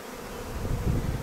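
Honey bees buzz in a dense, low, continuous drone during a hive inspection, close and steady and swelling slightly toward the end, with no talking.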